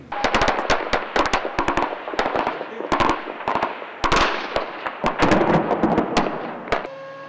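Rapid bursts of gunfire crack repeatedly in a firefight between US troops and Iraqis near a hotel in Baghdad, some in quick automatic volleys, with rumbling echoes between shots and no talking.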